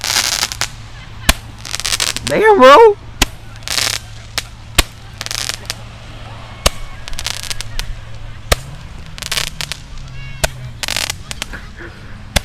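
Fireworks explode in Korea in a string of sharp, loud bangs spread irregularly through the scene, with a honking whistle-like rocket sound early on and people talking and exclaiming between blasts.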